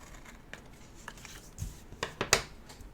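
Scissors snipping through paper planner stickers, a few quiet cuts followed by three sharper, louder snips close up near the end, with no talking.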